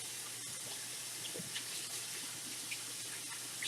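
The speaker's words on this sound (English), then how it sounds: "Okay, let me just wash my hands a little." Hands are rinsed under a running kitchen tap, a steady soft hiss of flowing water with faint splashes, heard alone.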